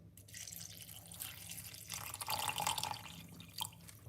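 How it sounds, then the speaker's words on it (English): Water poured for a ginger, lemon and salt morning drink, a quiet continuous trickle and splash building slightly in the middle, heard close and alone. "we're going to put some water."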